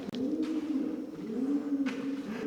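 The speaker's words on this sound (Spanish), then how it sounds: "Y para ir las palomas haciendo los ruidos que hagan las palomas." Pigeons cooing inside an old chapel, soft repeated low rolling coos close by with a few faint clicks and rustles.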